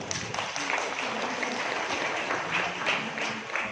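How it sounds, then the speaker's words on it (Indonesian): At a Quran recital and Nuzul Qur'an commemoration at an Islamic boarding school, an audience claps for the headmistress, a soft, steady patter of applause held at moderate distance throughout. "Ini tepuk tangan untuk Ibu"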